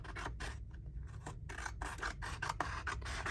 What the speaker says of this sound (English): I'll have to use my scissors. I'm going to cut